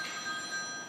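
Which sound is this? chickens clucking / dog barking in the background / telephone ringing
telephone ringing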